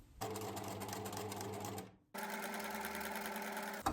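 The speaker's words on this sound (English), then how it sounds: "we're just going to sew all the way along to the other end to close it up" A sewing machine stitching along the edge of a fabric scrunchie, a close, steady mechanical whir running continuously, a brief stop near the middle, then another stretch of stitching ending with a small clunk.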